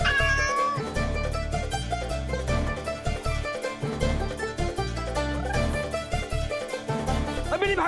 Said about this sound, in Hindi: बिल्ली भागी, बिल्ली भागी।